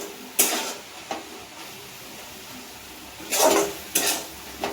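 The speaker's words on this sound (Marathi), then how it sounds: "शेंगदाण्याचा कूट पण टाकून घेतलाय मी आणि मस्त परतून घेते" Fenugreek greens tossed with crushed peanuts in a pan, giving a few scattered spatula scrapes and soft metal clatters at an even, unhurried pace, close by over a faint background hiss.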